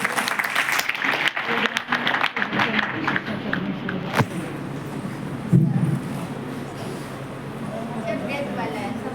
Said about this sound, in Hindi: कृपया उनके लिए एक बार जोरदार तालियां